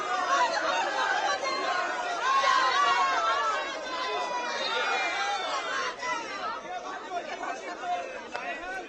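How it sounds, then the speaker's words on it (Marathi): BJP workers and women celebrating an election win in West Bengal: a dense, steady crowd of excited overlapping voices and chatter, with cheering and shouting surging and fading throughout. "भाजपच्या कार्यकर्त्यांकडून, महिलांकडून हा जल्लोष केला जातो"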